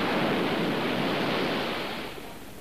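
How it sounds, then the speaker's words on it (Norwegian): A strong storm at sea sends a steady, loud roar of waves and wind with no break, fading slightly toward the end, and no voices are heard. "Det er sterk storm på havet."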